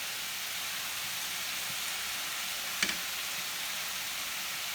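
Teriyaki sauce hits chicken in a hot pan, giving a steady, loud hiss of frying and sizzling with a brief clatter partway through and no talking.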